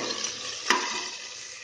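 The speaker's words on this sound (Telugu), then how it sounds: "ఉల్లిపాయలు వేసుకుని మనం వేయించుకోవాలి." Onions sizzling in a pan with dried chillies and garlic, a steady close frying hiss with one brief sharper crackle partway through, no voices.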